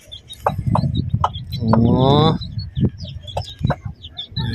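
Chickens cluck in short bursts nearby, with one drawn-out squawk in the middle, while a person speaks briefly over them.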